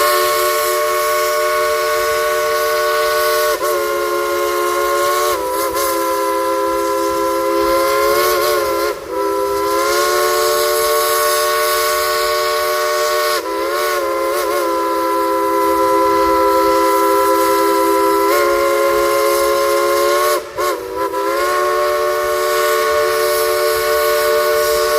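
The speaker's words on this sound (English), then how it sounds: "Would you like to hear the engineer play a tune on that Boswell locomotive whistle?" Dollywood Express steam locomotive's Boswell whistle played as a tune, loud chime-like blasts held and varied over many seconds with brief gaps, backed by steady steam hiss.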